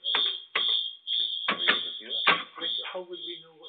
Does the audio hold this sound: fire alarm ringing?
yes